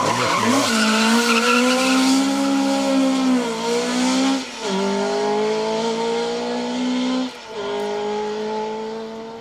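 A Mark 1 BDG rally car races past on a Manx Rally stage, its engine note loud and close, rising and falling through gear changes with brief lifts between hard acceleration runs.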